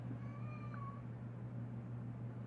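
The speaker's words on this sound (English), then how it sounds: "My cats are meowing." Indoor cats meow in a quiet room, with a short high-pitched meow or two near the start over a low steady hum.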